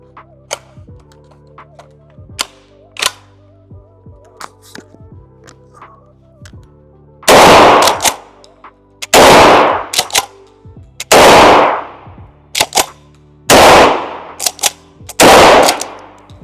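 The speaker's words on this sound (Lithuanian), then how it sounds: "5 šūviai atlikti" A Turkish shotgun fires five loud, sharp blasts at a shooting range, spaced about two seconds apart, after a quiet stretch of light clicks and handling ticks.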